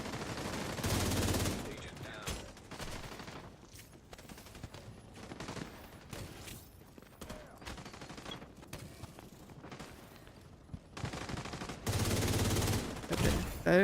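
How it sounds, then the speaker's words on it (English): Enemy gunfire in The Division 2 crackles in dense, overlapping bursts of automatic and single shots, loud and close, running nearly without pause through the firefight with brief dips between volleys. "Why is every fucking mob shooting at me right now?"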